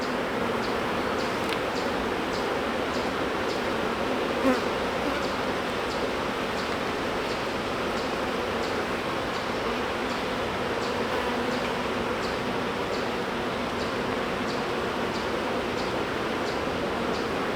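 Swarming bees buzz around an open hive in a constant, dense drone that stays close and even throughout, with a faint airy wash behind it and no voices.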